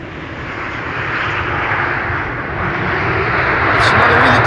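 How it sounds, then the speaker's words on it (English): Delta Air Lines flight from Tampa, Florida arriving at Amsterdam Schiphol: a rumbling airliner engine roar that swells steadily and grows louder as it approaches, with a voice faintly present in the background. "here we have Delta Airlines Flight 236 arriving from Tampa,"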